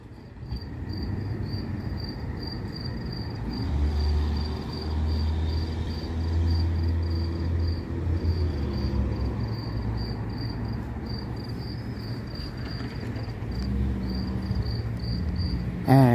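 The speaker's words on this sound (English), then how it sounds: "you can hear the chirping from the crickets" Continuous chirping of crickets in Bay Shore, Long Island, on a June evening, a steady high-pitched pulsing trill that carries on throughout over a low background rumble.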